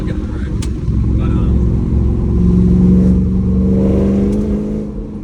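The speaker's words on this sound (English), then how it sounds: "this truck's super fun to drive around town. Second, third gear is key." An old rusty pickup truck engine rumbles close and loud as it accelerates through the gears around town, rising in pitch mid-way with a steady throaty drone.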